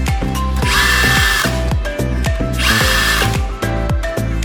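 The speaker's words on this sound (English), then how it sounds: "Next, put on the cover and fasten the screws." A power drill drives screws into the cover of a CNLONQ LQX-C series PV surge protection box, the motor whining up and stopping in repeated close, loud bursts.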